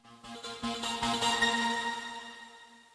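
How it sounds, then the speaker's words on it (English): A synthetic riser from Cakewalk by BandLab, finished with reverb, builds in soft pulses into a washy, ambient swell that lingers and fades slowly, heard alone. "And then I finally finished off with this reverb."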